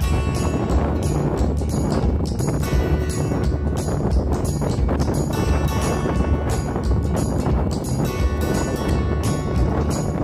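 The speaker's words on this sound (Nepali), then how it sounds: "यस ठाउँमा हावाको गति धेरै जसो तीव्र रहने गर्दछ।" Strong wind gusts across Dhumba lake in Mustang, Nepal, a loud continuous roar and buffeting rumble on the microphone that persists throughout without pause.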